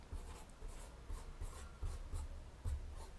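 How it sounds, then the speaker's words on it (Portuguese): A pen writes by hand on paper, scratching and rubbing close to the microphone in several short bursts of strokes with brief pauses, quiet and with no speech. "Vou escrever para você aqui, ó."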